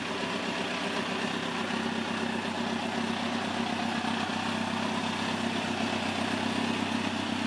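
A 2005 Kawasaki ZX10 sport motorcycle sits idling just after startup, its engine holding a steady, even rumble close by, with no talking and no throttle blips.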